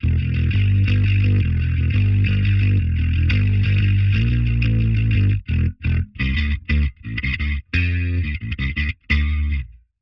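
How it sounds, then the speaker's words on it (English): Guitar played through a Line 6 POD Express with light distortion added over chorus, loud sustained chords at first, then choppy muted strums with abrupt cutoffs and brief silences. "Just a bit of distortion."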